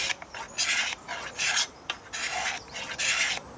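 A steel blade used as a cabinet scraper rasps along an antler harpoon in five rhythmic strokes with short pauses between, close and clear with no talking.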